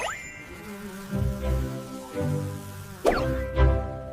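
A cartoon insect buzzes in a children's animated alphabet song, a close, loud droning hum that swells and dips in several passes, with a sharp swoop near the end, and no voice over it.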